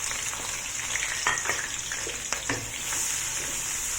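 Three chopped onions frying in hot cooking oil, a close, steady sizzle with scattered crackles and a few stirring knocks.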